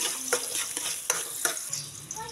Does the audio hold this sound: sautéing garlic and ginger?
yes